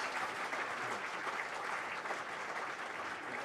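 An audience at a sports awards ceremony claps steadily throughout, a dense, even wash of applause from a large crowd with no pauses.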